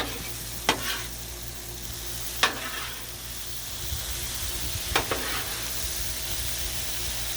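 Jambalaya sizzling on a Blackstone griddle as it is mixed, a steady loud fry broken by three sharp scraping clanks of the spatula, spaced a couple of seconds apart.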